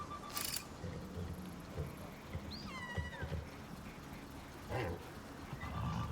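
A high, wavering horse whinny in the video game Icarus rises and falls once amid a steady, noisy game ambience, with a few sharp clicks and thumps around it.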